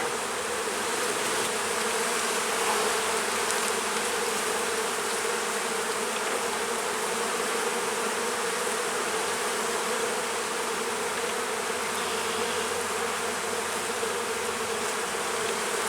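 A dense, continuous buzzing of many honeybees in an open hive, close and steady without pause for the whole stretch.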